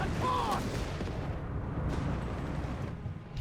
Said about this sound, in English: Crusader tank is getting absolutely plastered with German gunfire there